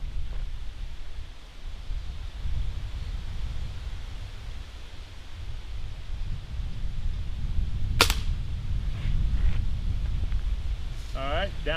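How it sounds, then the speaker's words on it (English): Steady low rumbling wind buffets the microphone outdoors during a hard seltzer challenge, with a sharp click partway through and faint sounds at the end. "I hope you can hear me with this wind."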